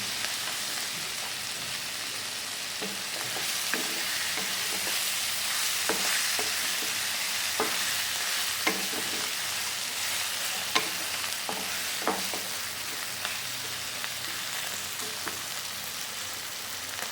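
Cauliflower and tomato frying together in a pan, a constant hiss of sizzling with scattered scraping and stirring taps spread through the whole stretch, no voices.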